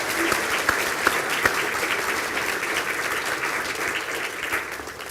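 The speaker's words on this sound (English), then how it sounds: "And if we could also give Eleanor a very well-deserved round of applause." A room full of people at a university conferring ceremony applauds steadily, a dense wash of clapping with no pauses throughout.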